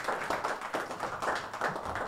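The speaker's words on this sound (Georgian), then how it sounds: "აპლოდისმენტები" An audience at a GAMA MMA press conference gives a light round of clapping, soft and somewhat distant, in uneven rhythmic bursts across the short stretch.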